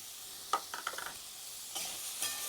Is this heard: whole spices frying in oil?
yes